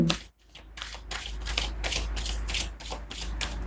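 Tarot cards being shuffled by hand: close, soft riffling bursts repeating in a quick rhythm, a brief pause near the start, no speech.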